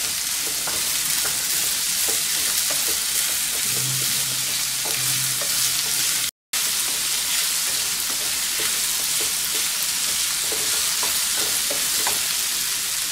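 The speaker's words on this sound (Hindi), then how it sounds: "अब हम इसमें ये कॉर्न डालेंगे। कॉर्न हमने बॉईल करके लिए हैं।" Boiled corn sizzling and being stirred in a pan for corn capsicum pulao, a steady loud frying hiss with scraping stir strokes throughout, no talking.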